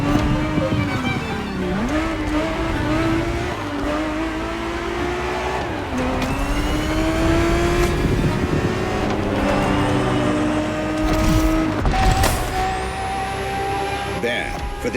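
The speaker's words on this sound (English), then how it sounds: "365 GTB4 is the perfect vehicle for you to experience Ferrari racing as it felt back in the 70s" Ferrari 365 GTB4 engine in the racing game The Crew Motorfest, a loud, close, sustained engine drone rising and falling through revs and gear changes, with a voice talking over it.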